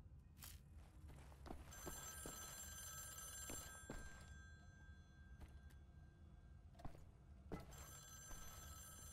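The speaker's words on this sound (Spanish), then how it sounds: "¿Quién coño llama al teléfono, tío?" A telephone bell ringing in the video game Wolfenstein: The New Order, a faint bright ring with steady tones that start and stop over quiet room noise and scattered soft knocks.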